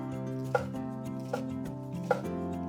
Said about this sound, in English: And then we're going to chop finely and then add them to the onions.